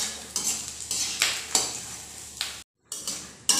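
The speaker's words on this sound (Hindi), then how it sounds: "लो टू मीडियम फ्लेम के ऊपर जब ये इस तरीके से लाइट गोल्डन ब्राउन फ्राई होकर रेडी हो जाए" Snacks frying in oil over a low to medium flame, with soft steady sizzling broken by several clinks and scrapes of a utensil stirring in the pan, then a brief silent gap.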